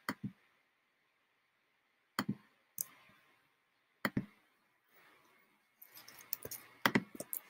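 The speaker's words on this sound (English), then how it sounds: "I'm going to right click on an image or alt click for you and copy image" A computer mouse right-clicks to copy an image: a few sharp, isolated clicks spaced seconds apart, close and crisp, with soft rustling handling near the end.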